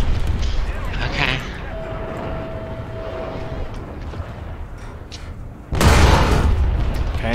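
A tank cannon shot in War Thunder's realistic battles on an abandoned factory map, heard as a sudden heavy boom late in the clip over rumbling engine noise, with someone talking throughout.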